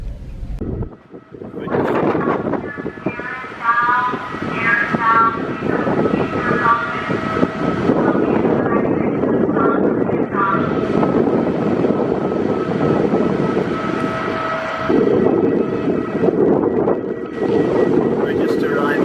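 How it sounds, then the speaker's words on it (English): Strong wind buffets the microphone outdoors while arriving on Vancouver Island on a Christmas day, a steady loud broadband roar with gusts throughout, and voices talking over it. "It's a little bit windy, but it's a nice enough day for Christmas."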